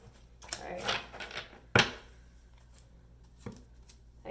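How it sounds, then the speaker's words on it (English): Thick tarot cards are shuffled by hand in a few close, quiet bursts of riffling and slapping, with one sharp flick standing out and soft gaps between. "These cards are so thick that it's so difficult to shuffle them."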